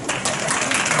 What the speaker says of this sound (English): let's give a round of applause to your parents